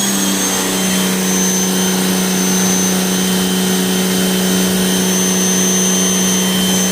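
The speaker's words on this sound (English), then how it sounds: "just the sound of the electric pressure washer." An electric pressure washer fed from a gravity tank runs steadily, giving a loud, even mechanical drone with a constant pitch and no pauses.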